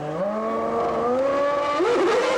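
A 1997 Formula 1 race car engine screams at high revs, its pitch rising steadily and then dipping and wavering near the end, close, loud and sustained, with no voices.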